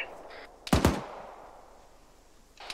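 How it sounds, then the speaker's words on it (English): A machine gun in Arma 3 squad training fires a short, loud, close burst of several rapid shots, followed by a fading echo and quiet background. "I want you to lay down suppressive fire in that town"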